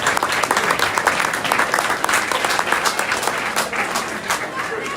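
An audience at a college athletics gathering applauds, with dense, steady clapping throughout, fairly close and loud, tapering off slightly at the end.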